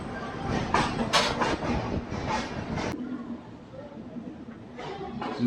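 Hampi Express running with LHB coaches between Mysore and Hubli, a continuous rolling rumble with rail clatter heard from near the coach door, with a voice talking over it.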